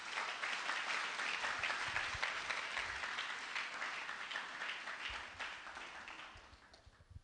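A church congregation applauds and cheers the Lord with steady, dense clapping that stays loud through most of the stretch and then gradually thins toward the end. There is no clear talk over it.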